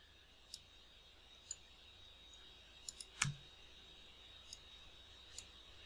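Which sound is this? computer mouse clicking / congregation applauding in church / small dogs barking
computer mouse clicking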